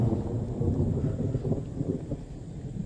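Low thunder rumbles from an approaching severe storm as a steady, fairly loud roll with wind and a little rain noise, and nobody speaks.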